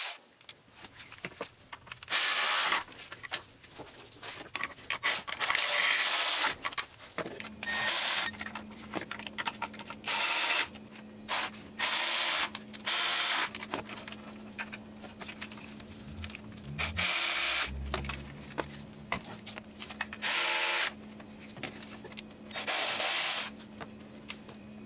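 Bolts being tightened on the oil cooler assembly of a Chevrolet Cruze 1.8L, heard as repeated close bursts of a power driver whirring and scraping, separated by short pauses and quiet handling noises.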